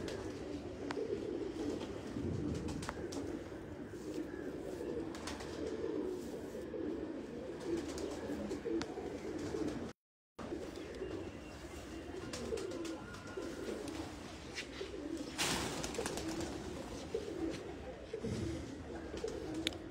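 Pigeons on a rooftop loft in Faisalabad coo softly and steadily through the whole stretch, with a brief dropout midway and faint background noise and occasional voices around them.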